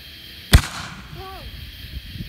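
A Nishiki Kamuro Supernova firework shell gives one sharp, loud explosive bang, followed by a faint crackle and a rising voice-like whistle, with quiet murmuring afterwards.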